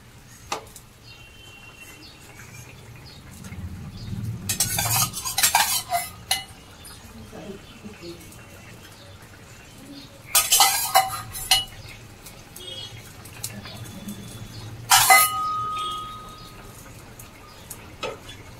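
Tangra fish and eggplant are dropped into a boiling curry and stirred in a pot, heard as three bursts of clattering metal and utensil knocks spread over a quiet background, with faint birds outside and no talk.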